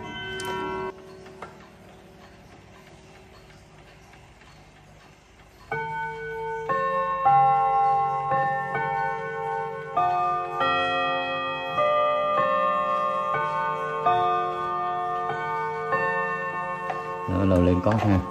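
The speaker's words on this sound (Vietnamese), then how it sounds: "Lúc này là cái cót đấy mình đã lên đủ để cho đồng hồ hoạt động." A wound-up six-gong chime clock with nickel-silver gongs: soft ticking of the mechanism at first, then a ringing melody of layered metallic gong tones playing steadily, loud and close.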